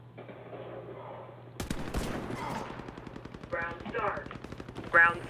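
Minigun fire in the online shooter Warface: after a quiet opening, a dense, rapid stream of loud automatic gunfire rattles on without a break, with sharper bursts and impacts layered through it near the end.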